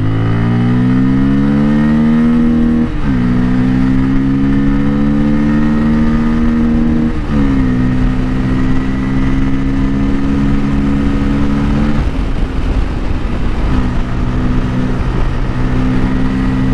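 A Bajaj Pulsar N250 (2024, 250cc) motorcycle accelerates hard on a bridge during a power test, its engine note climbing steadily through several gear changes with brief dips between shifts, loud and continuous with no talking.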